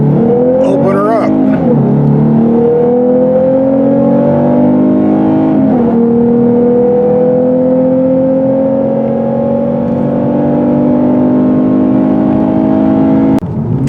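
A 2023 Lexus RC350 F Sport AWD pulls hard on an open country road, engine note climbing through gears with a gear change, then rising again in a long loud sweep close to the cabin.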